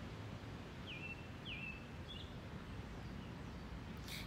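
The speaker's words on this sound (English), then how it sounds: "right now I hear the birds chirping" Birds call outdoors in the morning: a few short, thin chirps in quick succession, faint and somewhat distant over a steady background hiss of air and rustling.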